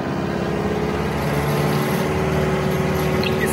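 A tractor engine, steady and loud close by, gradually speeding up with a low droning rumble and a constant hum.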